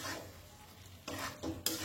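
A papaya and potato curry with green chilies and raw mustard oil is stirred in a pot, with soft scraping strokes and a couple of louder spatula rasps near the end, close and brief with no voices.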